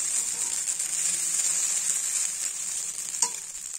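Chow mein with fried egg, green chilli and onion, made without spices, is stir-fried in a pan. A steady, close, hissing sizzle runs throughout, with one brief utensil clink near the end.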